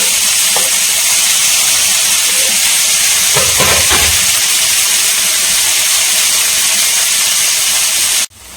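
Two large chopped tomatoes sauté in a hot pan, giving a steady loud hiss and sizzle throughout. A few soft stirring scrapes and thumps come midway, and the sound cuts off abruptly near the end.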